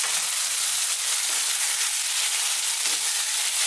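Beef curry masala with chopped ginger frying in a pan over lively heat, giving a steady, close, even sizzle and hiss throughout with no talking.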